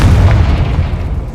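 A Confringo spell explosion in Hogwarts Legacy, one loud, deep booming blast that rumbles and slowly decays across a short moment, with no voice over it.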